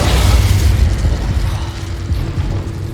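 In Hogwarts Legacy, an Incendio fire spell bursts out as a loud, rumbling whoosh of flame, strongest at the start and then rolling on as a heavy, noisy roar with faint mechanical clicks.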